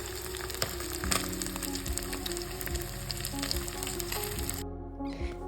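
Tank fish frying in oil in a home kitchen, a dense, steady sizzle and crackle close by for several seconds, with faint stirring knocks and the spatter easing near the end; no one speaks.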